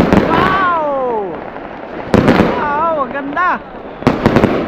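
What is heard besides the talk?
fireworks being set off for Chinese New Year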